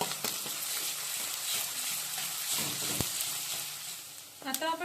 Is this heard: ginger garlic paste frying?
yes